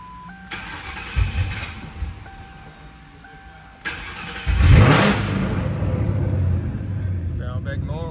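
A Ford Crown Victoria, freshly fitted with a new fuel pump driver module, is started and runs at idle close by, with a rumbling engine and a rev rising around the middle, while faint speech comes and goes over it.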